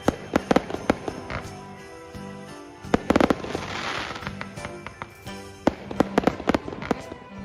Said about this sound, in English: There's really cool fireworks.